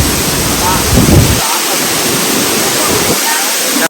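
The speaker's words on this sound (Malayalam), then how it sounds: "വെള്ളച്ചാട്ടം അടിപൊളിയല്ലേ?" Alakapuri waterfall at Sasippara pours with a loud, continuous rushing roar of falling water, steady throughout, with some low wind buffeting against the microphone.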